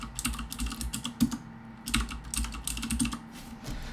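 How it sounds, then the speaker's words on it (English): A password being typed on a computer keyboard, quick close key clicks in uneven bursts with a brief pause midway, alone without talk. "go ahead and type in your 8 character password here"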